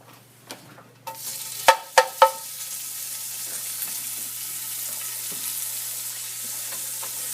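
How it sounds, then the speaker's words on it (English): Bacon starts to sizzle and render in a pot after a few sharp clatters of it going in, a steady close frying hiss that carries on to the end with no one speaking. "I'm going to start by adding the bacon to the pot."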